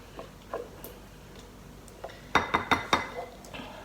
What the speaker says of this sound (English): I'm just gonna stir to incorporate the avocado because it's mashed on the bottom there. So I am scraping the bottom of the bowl